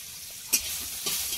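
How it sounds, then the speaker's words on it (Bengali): Garlic hitting hot oil in a pan while greens are being cooked, giving two sharp sizzle bursts with stirring between them, close and fairly loud. "আচ্ছা একটু রসুন তেলে দিয়ে শাক রান্না হবে"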